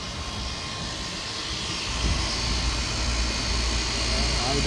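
A blower motor in a Lennox rooftop HVAC unit runs with a steady broadband whoosh and low hum that rises slightly as it spins up, loud and constant, with faint talk mixed in.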